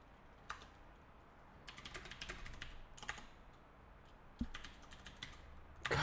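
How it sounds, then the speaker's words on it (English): Computer keyboard typing at a desk, fast bursts of clicking keystrokes in uneven clusters separated by short pauses, close and moderately quiet, with a few louder key hits near the end. "my typing is terrible right now."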